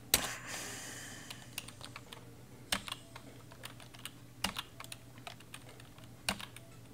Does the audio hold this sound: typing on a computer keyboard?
yes